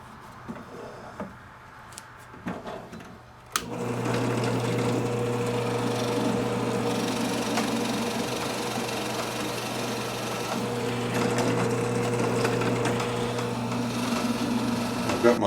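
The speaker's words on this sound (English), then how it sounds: "I've got a 3/4 Forstner bit, and this is going to drill a hole" A 3/4-inch Forstner bit bores into wood with a steady, sustained whirring grind after a few brief knocks and clicks at the start.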